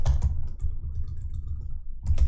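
Typing on the keyboard of a new MacBook makes quick, close clicking keystrokes. Denser bursts come at the start and end, with lighter taps in between and no talking.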